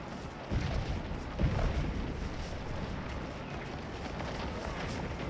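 Musket and cannon fire in the Civil War strategy game Scourge of War at Antietam, near Dunker Church, shooting through woods: two sharp booming shots early on, then a dense, steady rumble of distant volleys.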